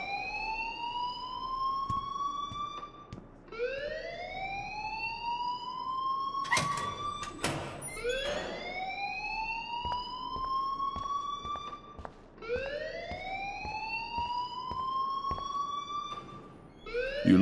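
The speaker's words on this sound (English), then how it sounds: "please turn off that alarm since that's your job" An electronic alarm in the video game Life is Strange wails in repeated rising sweeps, each cycle climbing then holding, steady and moderately loud with a brief burst of clatter midway and no talking.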